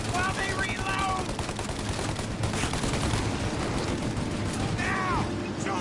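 Gunfire rattles through a shootout in the Mafia video game, with dense overlapping shots and bursts under a voice speaking over the battle.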